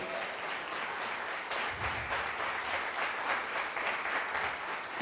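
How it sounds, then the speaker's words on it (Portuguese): A church congregation claps in praise, a continuous mid-level wash of many hands with no pause throughout. "Você pode dar uma salva de palmas ao Senhor?"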